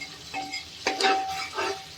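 A spoon stirs masala khichdi with spices in a metal pot, giving soft scraping and a couple of light clinks against the sides, close and quiet, with a faint sizzle underneath.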